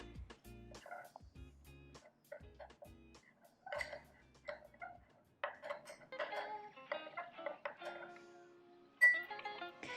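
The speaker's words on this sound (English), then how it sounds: "So go ahead and mix that up till you reach a consistency you like." A spoon stirs chia seed, almond milk and peanut butter pudding in a container, giving faint, irregular clinks and scrapes in quick uneven bursts.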